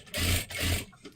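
A sewing machine runs two quick bursts of double stitching on a blouse, a close whirring rattle with a short tap at the end and no voices.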